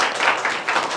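Students in a village classroom in Uttarakhand clap for a classmate, a brief burst of dense, fairly close applause from a small group that holds steady for about a second.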